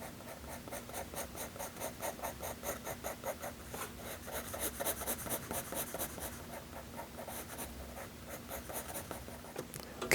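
Soft B graphite pencil shading across sketchbook paper, a steady rhythmic scratching of repeated back-and-forth strokes, close and fairly loud with no talking.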